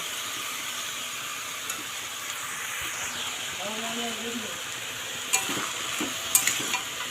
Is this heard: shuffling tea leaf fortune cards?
no